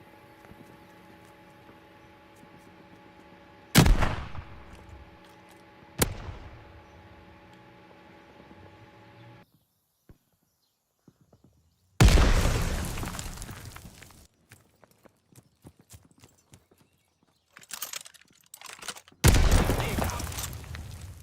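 Call of Duty: Vanguard gunfire and explosions on the Bocage map, with several sudden loud booms and bursts that decay into crackling rumble, separated by quiet stretches and a low steady hum early on.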